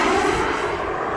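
Radio-controlled jet plane passing at full throttle, a loud, steady broadband engine roar and whistle that stays close and continuous without a break, with no talking over it.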